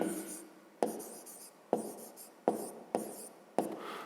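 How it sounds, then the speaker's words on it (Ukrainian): A pen writes on paper at close range, a series of about six brisk scratchy strokes in steady rhythm. "Отже, записуємо так."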